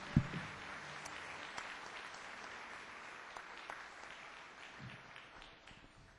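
A church congregation gathered on a Friday applauds together, a soft, distant, sustained patter of clapping after a sharp knock at the start, tapering gradually.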